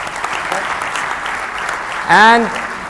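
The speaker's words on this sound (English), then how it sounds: "Please, could you put your hands together for the panelists?" Audience at a medical conference session in Lahore applauding the panelists, a broad steady wash of clapping that runs through the whole stretch, with a brief voice cutting in near the end.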